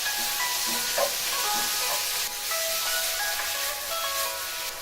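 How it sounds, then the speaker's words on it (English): Kimchi frying in a pan, a steady loud sizzle and hiss with small crackles and pops throughout, with no talk over it. "Now we're gonna add almost all the kimchi."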